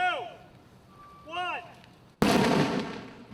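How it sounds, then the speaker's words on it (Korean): A small firecracker bursts apart a watermelon in a safety demonstration, one sharp loud crack near the end after several chirping whistle tones, followed by a decaying noisy rush. "작은 폭죽 하나의 위력이 이 정도입니다."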